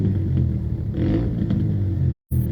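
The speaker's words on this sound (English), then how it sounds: "You revving like he got some big bike." A motorbike engine revs close by in a loud, rough rumble with a rattling edge and rising pulses, then cuts out abruptly for a moment before resuming.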